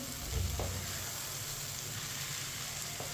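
Vermicelli with mixed vegetables sizzling and frying in a pan as it is stirred, a steady crackle with a few soft scrapes of the spoon against the pan, no voices.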